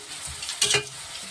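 A short burst of sizzling as shahi cumin hits hot white oil in a pan, a bright crackle swelling for a moment over a low steady fry, close and with no talking.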